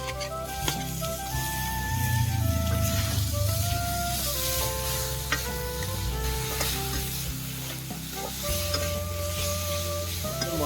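Spices and chopped tomato frying and being stirred in a pan for an Assamese-style rohu fish curry, a steady close sizzle with scraping stir strokes and music running underneath throughout.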